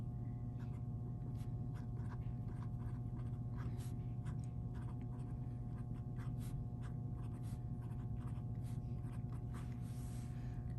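Pen scratching on paper while writing out an equation, faint quick strokes and taps in irregular bursts over a steady low hum, close and quiet with no talk.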